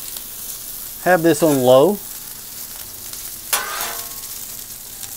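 Spam fries in grapeseed oil on a Blackstone griddle, a steady close hiss running throughout, while someone speaks briefly near the start.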